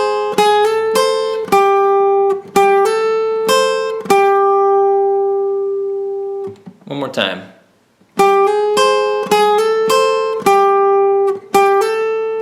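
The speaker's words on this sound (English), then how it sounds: "you hammer on from 8 to 10 on the second string" Acoustic guitar riff from a song, hammered-on notes on the upper strings, played twice in a steady ringing pattern with a short spoken pause between the two passes.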